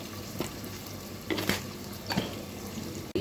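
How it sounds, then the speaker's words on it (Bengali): Chopped onions with a pinch of salt frying in a pan, giving a steady close sizzle with a few brief stirring scrapes and louder bursts, no talking. "পেঁয়াজটাকেও একটু ভেজে নিব তার সাথে একটু এখন লবণ দিয়ে দিই"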